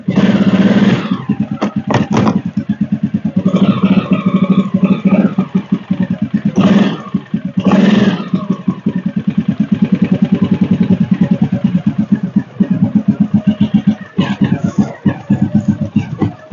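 An ATV engine used for clearing snow idles steadily and loudly up close for the whole stretch, its low throb unbroken, with a few brief voices over it.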